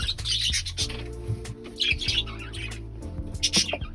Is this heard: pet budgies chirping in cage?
yes